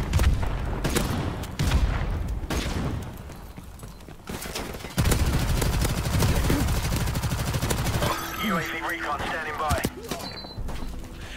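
Rapid FANG 45 SMG fire in a first-person shooter, with bursts of sharp repeated shots and booming impacts, while someone talks over the gameplay.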